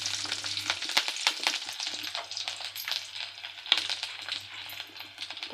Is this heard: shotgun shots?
no